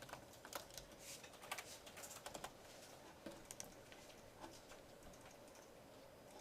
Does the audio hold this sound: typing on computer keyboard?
yes